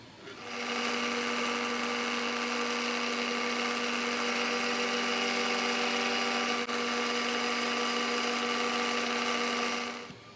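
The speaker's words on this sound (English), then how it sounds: "Using a 1/2 inch 2-flute high-speed steel end mill." A milling machine cuts steel with a 1/2 inch two-flute high-speed steel end mill, a loud steady whine and hum that holds from start to finish as the cutter passes back and forth over a chisel-sharpening fixture.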